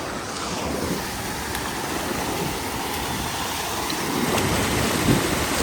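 A monsoon waterfall at Usar village in Mangaon, Raigad roars as a steady broadband rush of falling water, loud and continuous, with wind buffeting the microphone.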